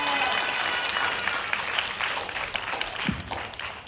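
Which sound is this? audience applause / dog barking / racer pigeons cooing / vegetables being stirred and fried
audience applause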